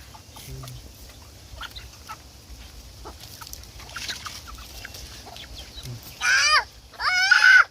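Chickens and ducks calling in a Thai farmyard where a chicken is being caught, scattered soft clucks early on, then two loud harmonic squawking bursts close by near the end.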